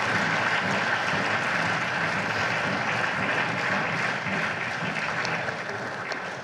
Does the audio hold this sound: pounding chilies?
no